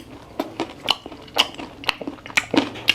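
Crisp bites into premium crispy pork belly, a quick series of sharp, close crunches spaced irregularly, followed by chewing, loud and alone without talk.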